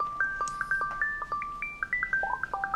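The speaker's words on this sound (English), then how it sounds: "That's not my ringtone." A phone ringtone plays a bright electronic melody of quick, clean notes, moderately quiet and alone, with no voices over it.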